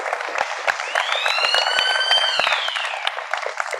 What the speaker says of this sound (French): Please, applaudissez pour vous-même